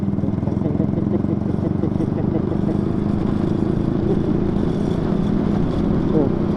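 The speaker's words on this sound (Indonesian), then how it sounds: "Tuh, suara motor gue denger kan" A motorcycle ridden over uneven paving blocks gives a steady low engine drone with constant rattling and clattering of the body and chain, loud and continuous throughout.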